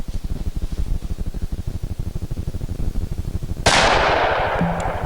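A single .44 Magnum revolver shot with a 240-grain Federal full-charge load, a sharp loud blast that rings out and decays outdoors, after a stretch of low, rhythmic rumbling.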